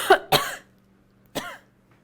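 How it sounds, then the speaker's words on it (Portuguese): Three close coughs: two quick ones back to back, then a pause and one more, in an otherwise quiet room. "É só uma tosse, bem rapidinho."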